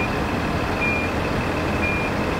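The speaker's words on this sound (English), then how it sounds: "if you wanna close it, beeps again so you don't hit your head" A 2016 Infiniti QX80's power liftgate sounds a steady warning tone as it closes, one thin sustained beep held over a broad, even hiss of outdoor background noise.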